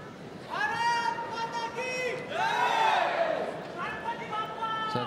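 Indian supporters cheer and chant at a women's singles badminton semifinal at the 2013 Swiss Open, rising voiced shouts swelling in waves over a steady crowd roar, with a commentator talking.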